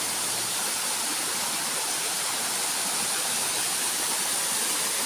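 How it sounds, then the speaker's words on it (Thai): Steady, broad rushing of falling water, constant and fairly loud with no breaks, like a waterfall heard up close. "มาชมน้ำตกสวยงาม"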